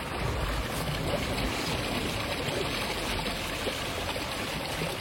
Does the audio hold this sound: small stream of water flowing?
yes